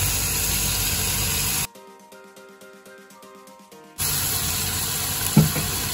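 Cleaned chicken pieces dropped into a hot pan for majboos give a steady close spray-like sizzle that cuts out for a couple of seconds, then resumes with a brief clatter.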